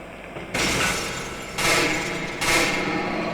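Three loud, sharp gunshots ring out about a second apart in the horror game Cry of Fear, each followed by a lingering echoing tail.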